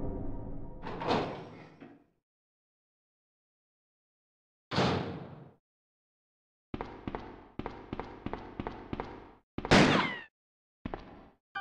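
Doors in the PS1 version of Resident Evil 2, heard as a few separate heavy thuds and creaks followed by a quick run of rhythmic clunks and a final sharp bang, each sound standing alone against silence.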